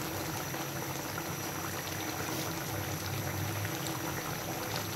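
Shol fish dopiaza gravy simmering and reducing in a pan, a faint, steady bubbling hiss that continues evenly throughout.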